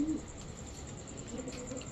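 Small pigeons coo softly and faintly in a short, continuous low murmur, with a steady background hum.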